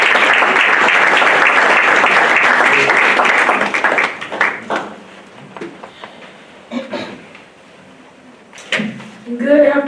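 Audience applause at a community gathering, a dense burst of clapping for around four seconds that tapers off into scattered claps, followed by some shuffling and a few brief voices.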